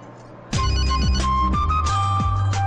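A mobile phone ringtone rings loudly, starting abruptly and repeating its bright melodic phrase in a steady rhythm, alone with no talk.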